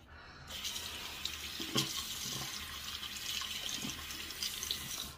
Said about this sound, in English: Gotta rinse off the tip where I got it in the cap.